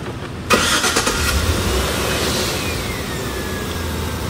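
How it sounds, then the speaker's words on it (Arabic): A Chevrolet Tahoe engine cranks and starts with a sharp burst, then settles into a steady, fairly loud idle that runs on without pause, no voices heard. "بيشغل السيارة"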